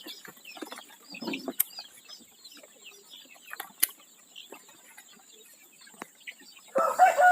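Chickens in a new backyard coop in a housing complex give scattered soft clucks and short calls at moderate distance, with a few sharp knocks and a louder burst of clucking near the end.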